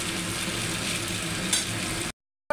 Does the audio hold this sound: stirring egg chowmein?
yes